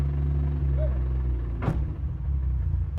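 A BMW E36 engine runs unevenly and bogs down, its steady low rumble breaking into a brief rough stumble near the middle of the clip. No one speaks.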